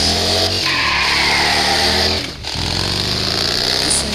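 A simulated 1800cc engine from a phone engine-sound app revs loudly and steadily, holding a dense roar with a brief dip around the middle before climbing back to full throttle.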